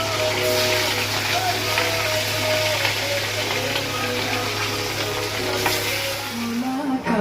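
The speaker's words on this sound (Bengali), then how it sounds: "আগে পেটি মাছগুলো ছেড়ে দিচ্ছি।" Belly-cut pieces of fish sizzle steadily in a small amount of hot oil, a continuous close crackle with a faint hum underneath and some scraping near the end.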